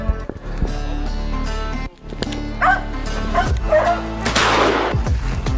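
Hunting dogs bark repeatedly in a forest during a moose hunt, a string of close, loud barks and yips with brief whimpers, and some rustling movement nearby.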